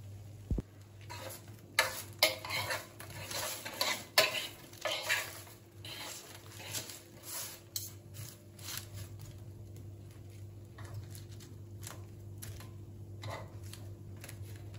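Roasted vegetables being turned in a baking dish, with a run of soft scrapes, taps and light clatters of a utensil against the dish over a faint background hum, quiet and close.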